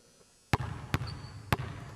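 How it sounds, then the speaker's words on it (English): Three sharp basketball bounces on a hard court, pound dribbles leading into a jump shot during a shooting drill, spaced about half a second to a second apart, each hit loud and close. "So these are pound dribbles up into your shot."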